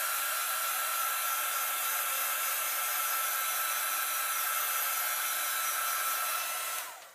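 Hair dryer blowing steadily on watercolored gelato paint, a loud, continuous whooshing roar close by that holds for several seconds and then switches off at the end.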